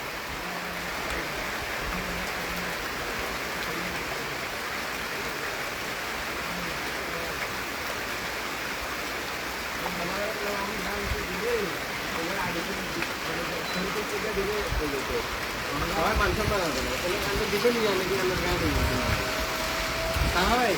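Sudden afternoon rain in Noakhali, a continuous dense hiss of falling rain that swells louder toward the end, with people talking beneath it.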